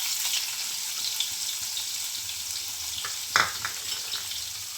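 Onion fries in hot oil with asafoetida and green garlic for a Gujarati ivy gourd curry, a bright continuous hiss close up with one or two stirring scrapes, no voices.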